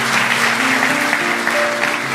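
A church congregation claps together during worship in a steady, dense patter that fills the whole stretch, with a faint sustained tone underneath.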